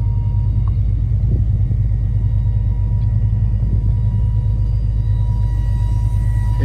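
The power convertible top of a 1969 Mercury Cougar runs with a loud, continuous low motor drone and rumble, steady and close with no pauses.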